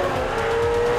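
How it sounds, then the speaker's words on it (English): A Ferrari 348 sports car with a 3.4-litre V8 drives past in a brief, loud burst of engine tone, close and steady, alone without talk. "Driving a Ferrari."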